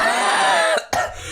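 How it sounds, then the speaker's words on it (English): A person coughs loudly and close to the mic, a harsh rasping burst that breaks off, followed by a shorter second cough, with no talk around it. "We cough here a lot."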